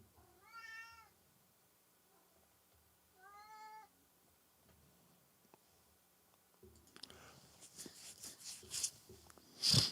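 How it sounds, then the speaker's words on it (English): A cat meows twice in separate drawn-out calls with quiet gaps between them, followed by louder scuffing, clattering handling noises close by. "He's going, meow, meow, meow."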